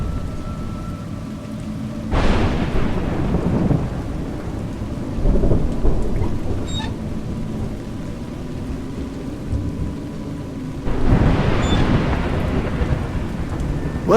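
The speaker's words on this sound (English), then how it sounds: "It's raining." Steady rain pours throughout in the video game A Juggler's Tale, with low thunder rumbles swelling three times over the downpour and no voices.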